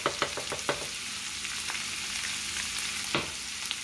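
About a tablespoon of minced garlic fries in a pan for shepherd's pie, giving a bright, steady crackling hiss with a few sharp spatters and clicks near the start, up close.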